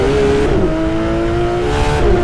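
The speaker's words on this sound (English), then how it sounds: "Yes, we can immediately feel the weight of the engine in the back." A Porsche GT3 RS engine in a racing video game drones steadily, its rear-mounted engine note rising and dipping slightly as the car drifts through a corner, loud and close.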